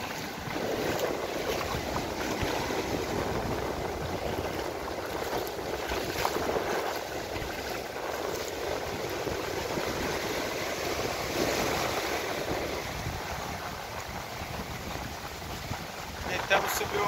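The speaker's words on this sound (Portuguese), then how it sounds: "A onda tá aumentando" Ocean waves wash steadily at Arraial do Cabo beach in Rio de Janeiro, a continuous surf and wind wash with voices talking over it throughout.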